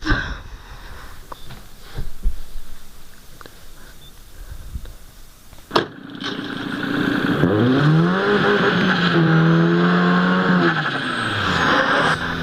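After some quiet knocks and clicks, a Ford Focus engine in the video game Need for Speed: Most Wanted suddenly roars up and revs, its pitch rising and falling loudly and continuously.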